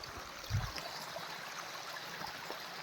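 A drinking-water spring source in Nepal trickles steadily, a soft continuous flow with one brief low thump near the start and no voices.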